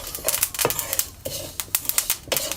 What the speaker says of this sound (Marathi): हे भाजल्यावर आहे ना फटाफट असं चुटचुट असा आवाज येतोय